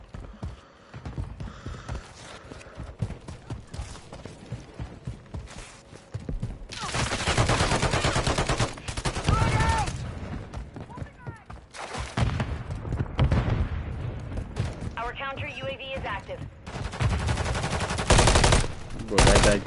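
SVA rifle fire in a Warzone match, heard as bursts of loud, close gunshots mixed with heavy in-game action noise across the stretch, building toward the end, with players shouting callouts over it.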